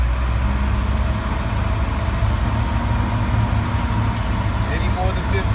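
A truck engine idles in neutral while building air pressure, giving a steady, loud, low rumble that runs unbroken throughout.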